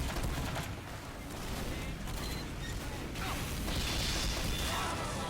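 Rapid, dense gunfire from Team Fortress 2 during competitive Highlander play, a steady clattering barrage of shots that runs loud and unbroken throughout.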